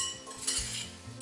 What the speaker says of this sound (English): Stir, y'all.